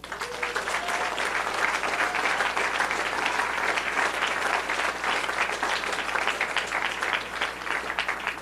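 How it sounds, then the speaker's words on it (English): A large crowd at a governor's election-night victory speech applauds steadily, dense clapping sustained and loud throughout, with no speech over it. "Please give yourselves a big round of applause."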